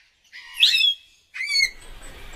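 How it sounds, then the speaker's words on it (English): A scarlet macaw parrot in the rainforest gives two harsh, raspy calls about a second apart, each loud and close, with faint forest ambience after. "The scarlet macaw, a magnificent parrot, its vibrant plumage a dazzling display against the verdant canopy"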